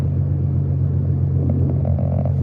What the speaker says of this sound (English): oh no, it's a tow truck.